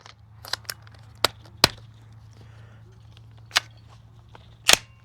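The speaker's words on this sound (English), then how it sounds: "This is the rugged Obsidian suppressor, 9mm and full loads." Suppressed 9mm full-load shots from a B&T APC fitted with a Rugged Obsidian suppressor: about six sharp, close cracks spaced irregularly over a few seconds, each fading fast over a steady low hum.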